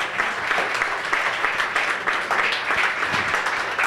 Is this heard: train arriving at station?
no